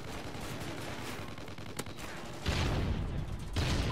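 Gunfire rattles in Call of Duty: Ghosts, rapid automatic bursts of shots that grow louder and denser in the second half, with no talk over them.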